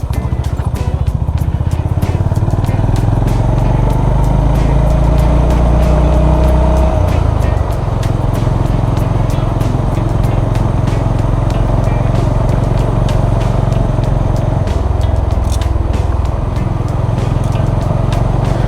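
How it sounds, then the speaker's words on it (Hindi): A car crawls slowly over a badly potholed road deep in rural Maharashtra, its engine droning loud and steady with rattling thumps and brief dips in pace as it eases over the bumps. "बार बार वो गाड़ी स्लो करनी पड़ रही है"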